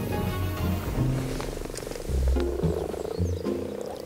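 Frogs croak in a garden pond during spawning, several overlapping low purring calls pulsing in short repeated bursts, close and fairly loud, with no voices.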